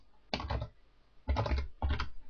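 Bursts of rapid keystrokes on a computer keyboard as a field name is entered into an Access query, in three close clusters separated by short pauses, with no voices.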